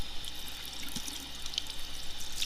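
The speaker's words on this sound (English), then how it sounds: "First step is going to get the sponge moist." Water runs steadily from a tap onto a sponge, a continuous close hiss and splash with small drips and no voices.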